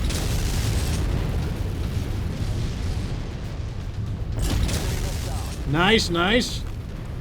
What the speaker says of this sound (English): Now I can support with my missiles.